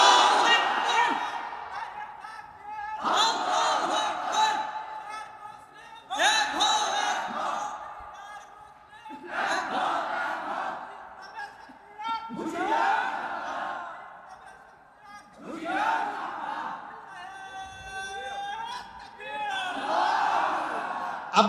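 Crowd at an Islamic religious gathering chanting slogans in loud call-and-response bursts, each shout a few seconds long and separated by short pauses, repeating about seven times.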